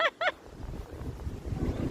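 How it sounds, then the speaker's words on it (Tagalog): Strong wind buffets the microphone in a steady low rumble, with a couple of short bird-like calls at the start. "Kusog kayo hangin."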